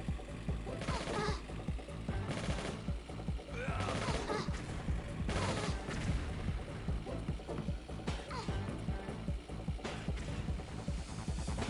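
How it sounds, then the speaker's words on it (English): Gunfire in the Tomb Raider The Last Revelation video game, repeated loud bursts of shots over a rumbling vehicle engine during driving, continuous and busy throughout. "I'm getting shot at loads while just driving around."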